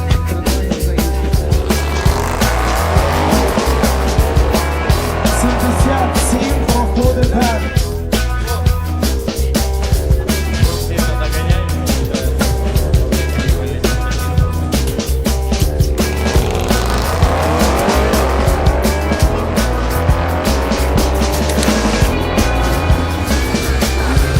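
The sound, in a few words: Audi RS7 drag racing car accelerating on track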